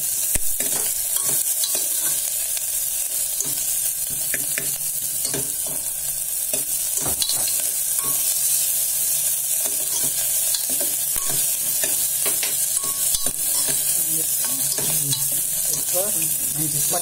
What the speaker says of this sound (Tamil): இப்போ வெங்காயம் சீக்கிரம் வதங்கணும்.